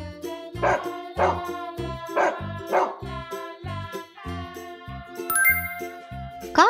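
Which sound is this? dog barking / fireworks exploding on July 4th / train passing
dog barking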